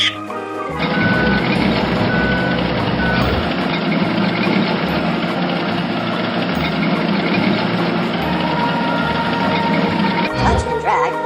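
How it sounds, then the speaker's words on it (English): Garbage compactor truck reversing in a children's video game: a loud, steady run of repeated backup beeps over an idling truck engine, lasting nearly the whole clip before cutting off. "Touch and drag the compactor truck to drive across the pile and squish it."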